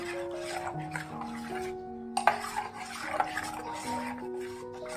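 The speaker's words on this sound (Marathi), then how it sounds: "आणि चांगल्या पद्धतीने असं हलवून घ्यायचं आहे" A spoon stirs green chili-mint water for pani puri in a vessel, giving soft swishing and a few light clinks against the container, with music behind.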